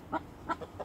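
A hen clucks while held under an arm for wing feather clipping in a backyard, giving three or four short, fairly close clucks at an uneven rhythm with no talk.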